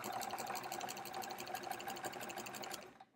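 Sewing machine quilting a sampler quilt, stitching in the ditch with dark blue thread, running in a steady rapid stitch rhythm close up, alone, stopping just before the end.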